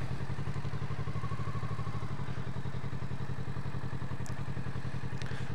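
A motorcycle doing slow full-lock turns in a slalom and figure-of-eight training exercise, its engine chugging steadily and loudly close by with a rhythmic low pulse, lightly clattering throughout.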